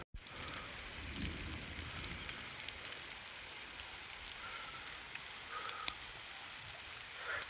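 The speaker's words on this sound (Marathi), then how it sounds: "आम्ही पाऊस पडत होता म्हणून आम्ही थांबलो शेडमध्ये" Rain falling around a shed beside a mango garden, a steady faint patter with occasional sharper drops throughout, no speech.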